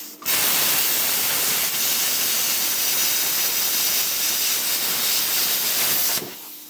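An R-Tech P51D plasma cutter slices through painted steel angle with a loud, steady, close hiss that starts abruptly, holds for about six seconds and then cuts off.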